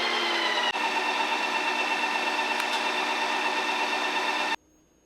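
A Ninja Creami machine processes on its mixing setting with a steady, close mechanical whir and a dense motor hum, then stops abruptly near the end and leaves quiet room tone.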